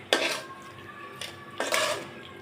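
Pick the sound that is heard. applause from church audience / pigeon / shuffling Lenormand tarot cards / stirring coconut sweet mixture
stirring coconut sweet mixture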